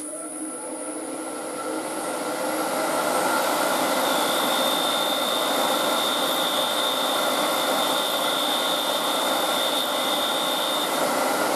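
A Hope Easy Set threading jig cuts a thread into wood with a steady, loud, close whine that swells during the first few seconds and then holds even to the end.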